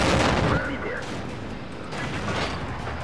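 Gunfire from an enemy T-25 AT tank destroyer in the World of Tanks game, a loud boom at the start followed by rumbling mechanical battle noise and a second softer swell.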